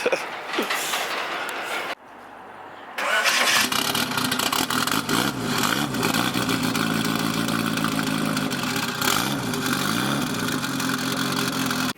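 A turbocharged Honda Civic engine revs up and accelerates loudly, a brief quiet gap early on, then a sustained roaring drone with rising pitch.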